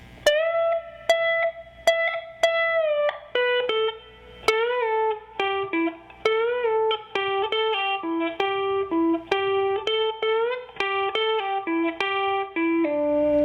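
An electric guitar plays a quick, busy blues lick, many picked notes with bends, moving in a lively rhythm with no one talking.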